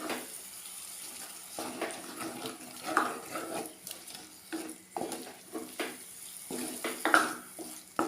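Water is poured into a pot of fish curry made with vala fish, tamarind and tomato. Soft, intermittent splashing and light clinks of the pot come and go at a low, close level.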